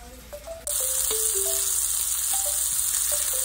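A burger patty grilling in a hot pan breaks into a sudden, loud, steady sizzle after a quieter opening, with faint beeps over the frying.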